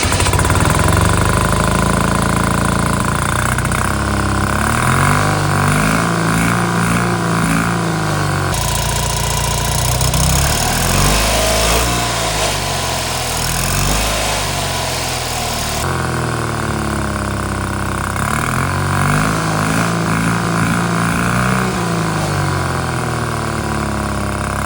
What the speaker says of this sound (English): This one is a straight pipe, so let's start the engine and hear the sound.